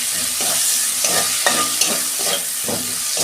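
Tomatoes frying in a pan for an okra curry with mustard and poppy seed, a loud close sizzle broken by rhythmic stirring strokes roughly every half second, no talking.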